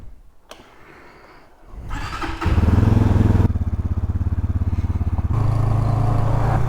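RPS Cruiser 300 EFI motorcycle with a 300 cc fuel-injected engine on a speed run: a quiet idle, then a loud rising roar through the gears, a brief dip at a shift, and a steady high-revving drone, close and alone.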